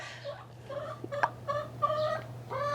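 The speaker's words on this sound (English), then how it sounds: "We're just gonna have chicken interruptions." Chickens clucking in a home garden, a series of short rhythmic clucks and calls close by, fairly quiet against a steady low hum, with no talk.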